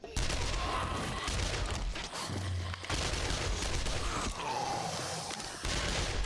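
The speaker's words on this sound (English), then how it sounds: "Actually, let's have a look at how this SMG goes." Submachine gun fire in the survival game 7 Days to Die, dense loud bursts of rapid shots filling most of the moment with a brief lull in the middle, with faint background game sounds.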